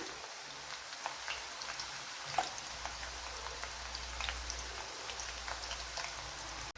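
Pothenkay snack pieces deep-frying in hot oil: a dense, steady crackle and popping of bubbling oil that holds for several seconds at close range, with no talk over it.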